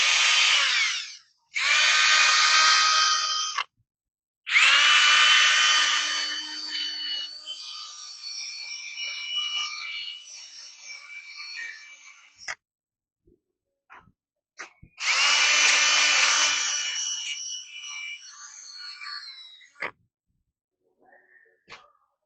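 A wire wheel on a power tool cleans Ford F-250 truck parts, loud close bursts of high whirring grinding in several runs with short gaps and quieter tapering stretches between.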